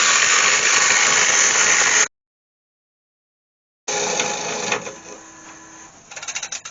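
A lathe chisel cuts an undercut into a cherry wood lidded bowl, making a loud harsh shearing hiss that stops for nearly two seconds, then resumes and fades into lighter rattling cuts near the end.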